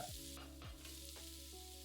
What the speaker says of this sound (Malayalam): അകത്തെ അരിയൊക്കെ കളഞ്ഞ് അല്പം വലിപ്പത്തിൽ സ്ലൈസായിട്ട് അരിഞ്ഞതിട്ട് ഏതാനും സെക്കൻഡ് വഴറ്റുക